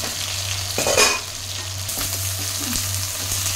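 Potatoes frying in hot oil sizzle and spatter loudly, while a utensil stirs and clinks against the pan in irregular bursts and a low steady hum runs underneath.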